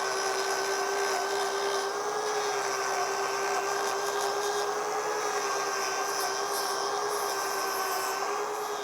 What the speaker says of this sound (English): we're going to thin this out with the grinder